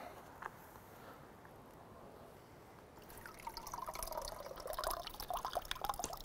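Water trickles and drips off an orchid just dipped in water, soft close drops that thicken into a busier patter of runoff in the second half, with no talking.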